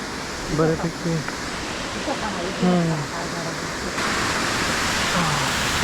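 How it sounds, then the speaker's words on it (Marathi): Steady rushing water from a waterfall close by in a monsoon forest, a continuous broadband roar running throughout, with people talking over it. "धबधब्याचा आवाज येतो जवळच वाटतं आहे की"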